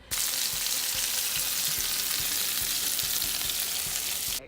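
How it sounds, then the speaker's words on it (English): Chicken seasoned with salt and pepper fries in olive oil in a pan, a steady close sizzle holding evenly throughout with faint rhythmic ticks underneath. "I'm just gonna cook the chicken with some salt and pepper and some in olive oil"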